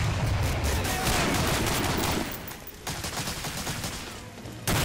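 Dense gunfire from the video game Medal of Honor: Allied Assault Breakthrough, sustained loud bursts of shots filling the scene, dropping briefly before resuming and ending in a final sharp burst.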